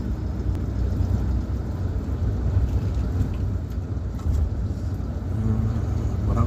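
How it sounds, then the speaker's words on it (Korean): Inside a moving car on the way to autumn foliage at Jirisan, a constant loud rumble of engine and road noise fills the cabin with a steady low roar and no speech. "지금 우리 차가 시끄럽기 때문에 이 차 소리 때문에 압축하는 프로그램이 잘 말을 제대로 안 들어요."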